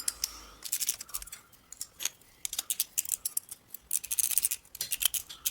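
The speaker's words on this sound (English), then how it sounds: "use a pair of side cutters" Side cutters snipping copper wire for a handmade copper rose, a series of sharp close clicks and snaps in irregular bursts, with light handling rattle between cuts.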